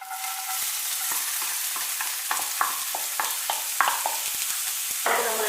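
Sliced onion hits a pan with ginger and garlic for chicken cutlets, frying with a constant sizzle while a spatula stirs and scrapes in quick, irregular strokes, close and clear.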